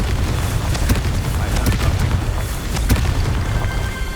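A Confringo fire spell bursts in Hogwarts Legacy with a loud, sustained rumbling explosion, several sharper cracks and pops flaring through the roar.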